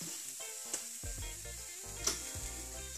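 Steady sizzling of hot oil in a pan, with a couple of sharp pops and faint clinks of cookware, no talking.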